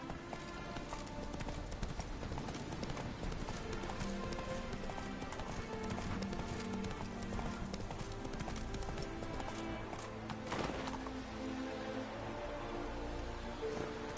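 Hoofbeats of Roach, the horse in The Witcher video game, clip-clopping steadily at a run through the whole stretch, with a brief whinny and a wet rain-like patter in the background; no talking.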